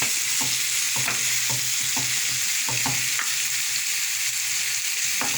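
Onion, green peppers and garlic fry together in hot oil for a pizza topping, giving a loud, continuous sizzle up close, broken by the scrape and clack of a utensil stirring the pan every second or so.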